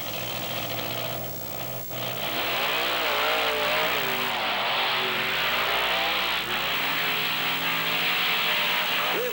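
Monster trucks Bigfoot and Equalizer race through beach sand at a 1997 event, their engines roaring loudly and steadily throughout, rising from a lower rumble into sustained revving with a commentator's voice heard faintly beneath.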